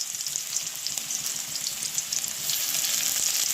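Chopped onions sizzle steadily in hot oil left in the pan after frying eggs, a dense, even crackle that grows a little louder near the end, with no voices.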